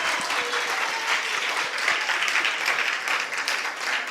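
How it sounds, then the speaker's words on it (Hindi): An audience at a religious discourse claps in a sustained, dense round of applause that holds steady from start to finish. "बारामती वालों ने ताली क्यों बजाई?"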